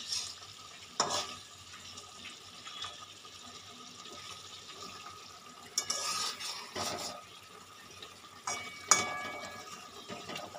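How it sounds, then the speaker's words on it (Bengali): Snakehead fish being stirred into a pot of simmering curry in a Bengali kitchen, with quiet scraping and bubbling under several louder spoon-on-pot clatters, and no talking. "মাছগুলো দিয়ে আমি একটু নেড়ে নেব।"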